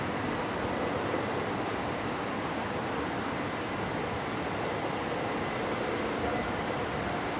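A Boeing 737-800 takes off at Brisbane Airport bound for Melbourne, its jet engines making a steady, loud, broadband roar that stays constant throughout.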